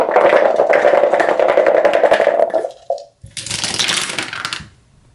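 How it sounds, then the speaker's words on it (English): Dice clatter and rattle across a tabletop during a board game, a dense continuous burst of tumbling clicks that stops, then a second shorter clattering roll follows before settling into quiet. "So now we'll roll the dice again."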